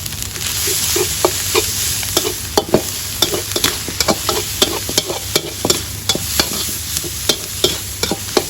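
Stir-frying after spring onions go into the pan, a loud continuous sizzle with rapid rhythmic clacks and scrapes of a spatula against the pan, close and without speech.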